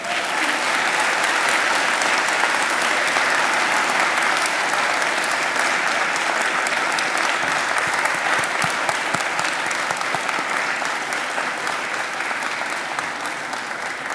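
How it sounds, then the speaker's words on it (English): Graduates at a Macquarie University graduation ceremony give a hearty round of applause, a dense, steady roar of many hands clapping that holds for the whole stretch with no talking above it. "Give them a hearty round of applause."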